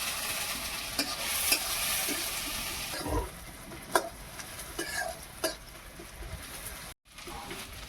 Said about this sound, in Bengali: পেঁয়াজটা হালকা একটু ভাজা ভাজা হয়ে এসছে।